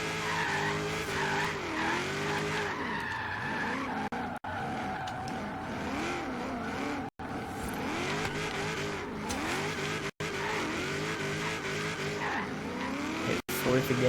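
A drift-built Holden Maloo ute in a racing video game skids through corners with squealing tires and a revving engine shifting into fourth gear, loud and continuous.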